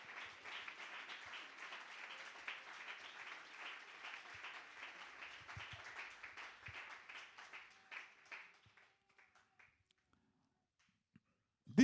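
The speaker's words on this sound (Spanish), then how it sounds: "Dele ese aplauso al Señor." A church congregation applauds the Lord in a steady wash of clapping that holds for about eight seconds, then thins into scattered claps and fades to near silence.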